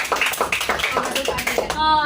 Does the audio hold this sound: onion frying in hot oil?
no